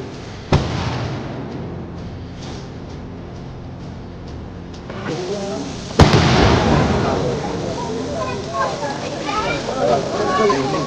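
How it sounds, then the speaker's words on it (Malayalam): Fireworks at a night festival following a switch-on ceremony for lights, with a sharp bang, then a louder blast and a dense run of crackling bursts, while a crowd talks and cheers throughout. "സ്വിച്ച് ഓൺ കർമ്മം കഴിഞ്ഞതിന് ശേഷം ഒരു വെടിക്കെട്ടും ഉണ്ടായിരുന്നു"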